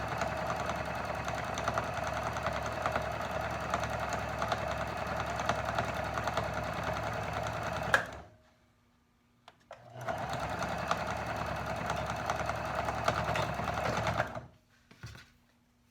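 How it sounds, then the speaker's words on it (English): A sewing machine stitches the fabric of a two-layer face mask with ties, running in a loud, steady, close whir for about eight seconds, stopping, then running again before a brief final burst. "should have probably taken the pins out instead of sewing over them."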